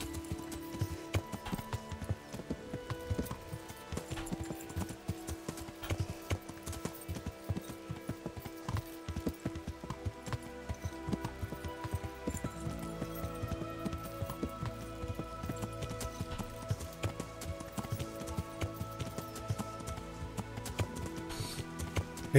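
Horse hooves clip-clop in a steady, continuous riding rhythm in the medieval game Kingdom Come Deliverance, moderately close, with faint background tones beneath.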